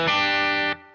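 Distorted electric guitar plays the lower octave part of the riff, a single thick sustained note, loud and close, cut off abruptly after under a second with a faint ring.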